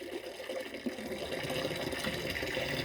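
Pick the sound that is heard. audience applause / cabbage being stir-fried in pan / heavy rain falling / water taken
water taken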